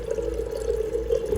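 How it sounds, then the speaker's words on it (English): Water drains steadily from the cold side of a Bio quantum unit, a continuous pouring stream with a slightly ringing tone, alone and at moderate volume. "So I'm just gonna drain constantly from the cold side"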